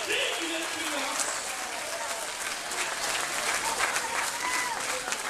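A church congregation gives a sustained round of applause at an evening worship service, a dense, steady wash of clapping mixed with cheering voices and crowd noise throughout.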